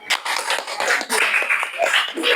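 Students clapping together in a classroom, a short burst of irregular hand claps, fairly close and loud, mixed with young voices and chatter.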